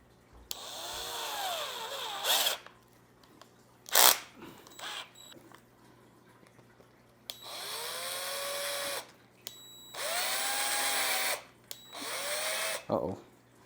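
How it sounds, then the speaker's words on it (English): A power drill bores holes while a sponge filter for an aquarium is being set up, sounding in several loud, whining bursts of a second or two with short pauses between them. Someone talks in the gaps. "Again, I'm drilling here."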